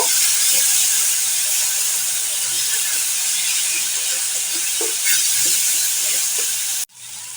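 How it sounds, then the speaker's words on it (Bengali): Ginger garlic paste frying in a pan for a crab curry, giving a steady, close broadband sizzle with faint stirring clicks throughout, ending abruptly with a brief drop near the end. "এখন আমি আদা রসুন পেস্ট দিয়ে দিচ্ছি। আদা রসুনটাকে একটু ভেজে নেব।"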